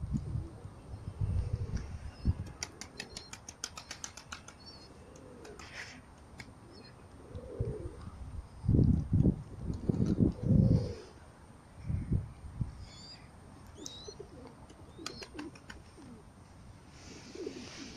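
Soft, low pigeon coos repeat in rounded bursts, fairly close, with faint chirps and light rustling in the background.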